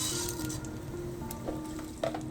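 Mustard seeds and urad dal sizzling in hot coconut oil for semiya upma, a soft continuous sizzle with faint crackles and small pops near the end, close by and quiet, with no talk.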